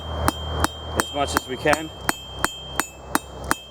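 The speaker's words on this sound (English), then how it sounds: "We want to make sure each hammer stroke is the same" Blacksmith's hammer striking a hot steel bracelet, landing in a steady even rhythm of about ten sharp ringing blows, close and loud, with someone speaking briefly between strikes.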